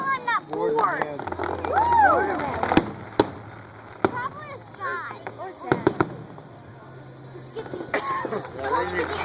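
Fireworks finale over a bay near a bridge at a July fireworks show, with repeated booms and crackling bursts at a distance, while people nearby talk throughout and a low engine hum runs underneath.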